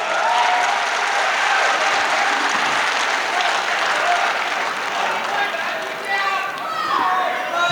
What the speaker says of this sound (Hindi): एक मरतबा जोरदार तालियां बजा दीजिए आप।